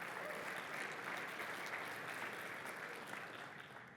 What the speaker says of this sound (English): Thank you all for giving us a round of applause for failing a demo.